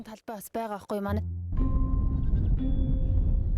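A flock of grazing sheep bleats in an open landscape, with a voice briefly at the start followed by a dense, steady chorus of overlapping bleats at close to middle distance.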